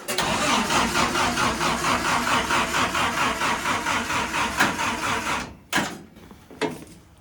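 A 1953 Willys CJ3B jeep engine under restoration cranks with a loud, rapid rhythmic churning from the starter for about five seconds, then cuts off, followed by two brief separate bursts of cranking.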